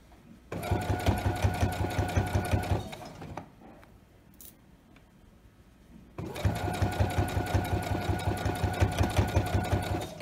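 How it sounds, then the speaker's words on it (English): A sewing machine stitches a seam on pajama shorts in two steady, rapid runs, with a short pause between them. The close, even mechanical chatter sounds alone, with no voices. "when you start sewing a seam, you'll back tack."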